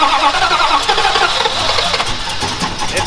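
A car engine cranks and catches in a garage where a muffler, starting fluid and a go-kart sit nearby, a loud continuous churning run with no pause and no voices over it.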